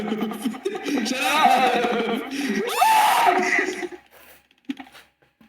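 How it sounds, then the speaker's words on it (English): A voice lets out a long, strained cry of pain during a Dungeons & Dragons tabletop session, rising and wavering for several seconds before trailing off into quiet, with a short voiced sound after. "That was scream of pain."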